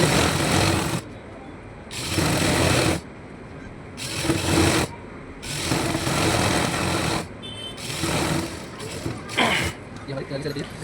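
Sewing machine stitching the left seam of a Pakistani farshi salwar, whirring in bursts that start and stop several times, with a person talking over the gaps between runs.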